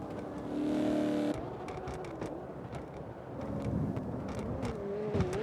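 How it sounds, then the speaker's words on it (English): Ford Mustang drift car in the CarX racing game, its engine droning and revving with shifting pitch as it slides, moderately loud and continuous. "Rocket's rocking the Mustang."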